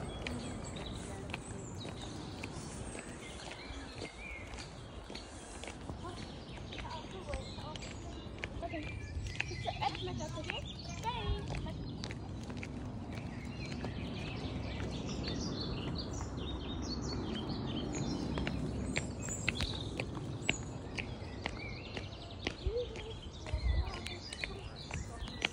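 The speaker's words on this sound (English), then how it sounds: "Birds are singing." Morning birdsong at an outdoor holiday park, scattered chirps and tweets spread across a quiet ambient background, with faint distant voices and footsteps now and then.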